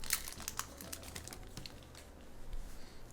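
A crinkly foil wrapper on a Photon Hypernova trading card booster pack crackles and tears as it is opened, close and quiet, in quick irregular bursts of rustling.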